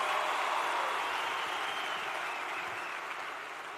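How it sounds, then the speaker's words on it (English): An audience at a graduation ceremony in Kasarani applauds continuously, a dense, even wash of many hands clapping that fades slightly toward the end. "A round of applause for those two that are represented."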